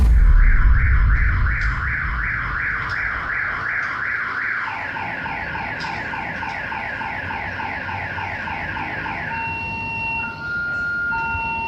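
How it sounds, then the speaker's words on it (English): A house alarm set off inside a home, blaring loud repeating electronic wails that shift into a faster warbling pattern and then into intermittent beeps. "footage of a wheelchair that activated a house alarm"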